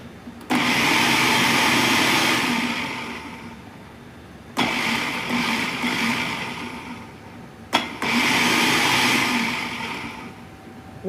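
An electric blender runs in three loud, steady bursts separated by short pauses, whirring as it chops a mixture of tomato, mushrooms and ground meat in a kitchen.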